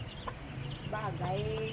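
A chicken clucks and squawks close by in a few quick bursts, over a low background hum and faint voices.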